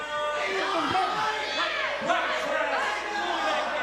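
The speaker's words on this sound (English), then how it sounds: "Why is the crowd booing the Stars?" Crowd at a Super Shogun Wrestling show, a steady dense wash of voices with whoops and jeers throughout, loud and continuous, with talking mixed into the noise.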